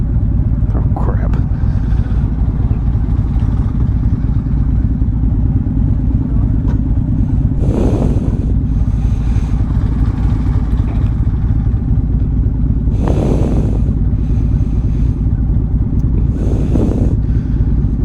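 A motorcycle engine running on the road, a constant low droning rumble that stays steady throughout, with wind buffeting and a voice speaking briefly over it.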